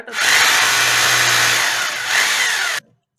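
A power drill bores holes into a wall during a PumpBot-10 pump controller installation, a loud steady high whine that runs nearly three seconds with a slight dip and rise before stopping abruptly.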